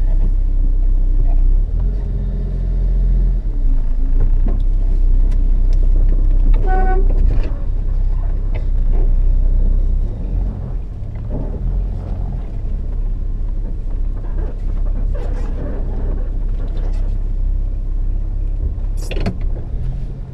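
A 1974 Plymouth Valiant on the road, its engine giving a loud steady low rumble through the whole drive, with a brief horn toot and a voice talking over the engine noise.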